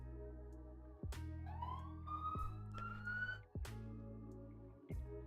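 A police siren wails past outdoors, its rising and falling tones clear and steady for about five seconds, with a few sharp clicks or thumps breaking in at regular intervals.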